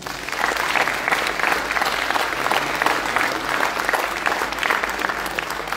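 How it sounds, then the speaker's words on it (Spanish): An audience at a formal book event applauds steadily, a dense sustained clapping from many hands throughout without a break. "Recibamos con otro fuerte aplauso a la maestra Sandra Gallardo González"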